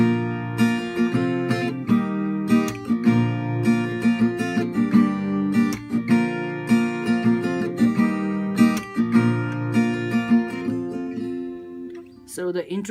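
An acoustic guitar strums chord patterns, down, up and a percussive tap on each chord, loud and close with a steady, repeating rhythm, ending with a few lighter plucked notes.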